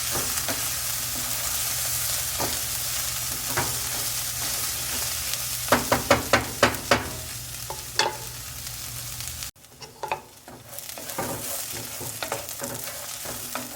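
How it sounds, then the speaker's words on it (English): Steady sizzling of chickpea lentils with bitter gourd stir-frying on high heat, with rhythmic scraping strokes of stirring that quicken briefly, then a short pause before sizzling resumes. "Dal with the karela"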